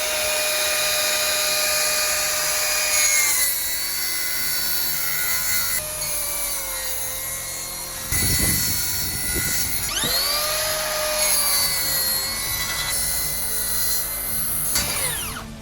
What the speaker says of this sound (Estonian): See asi on järkamissaag ja järkamissaega kõige lihtsam asi maailmas.